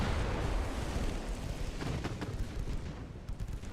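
Naval guns pounding a destroyer in a long-campaign USA naval war game, a dense, continuous rumble of heavy gunfire with rolling booms and blasts layered over one another, loud and sustained throughout.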